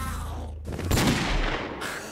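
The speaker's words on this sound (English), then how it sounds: "Shooting the dragon with a golden hat, with a golden revolver is the best thing." Golden revolver gunfire in a Minecraft-style video game, a dense burst of loud, booming shots that merge into a continuous rumbling blast lasting about a second.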